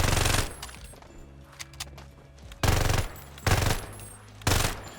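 Rapid automatic gunfire from a Farlight 84 shooter match fired while jumping, coming in three loud, close bursts separated by quieter gaps with faint mechanical game sounds between them.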